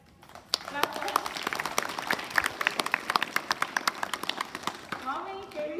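A school audience at a Foundation Day event claps for a student, a brisk run of many hand claps that swells and then fades out, with voices audible around it.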